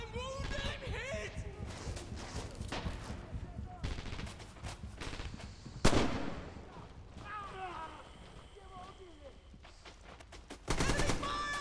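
Rifle shots and bursts of machine-gun fire crackle across a Stalingrad battle in Red Orchestra 2, with sharp nearby cracks, distant firing and a heavy blast, while soldiers shout over the din.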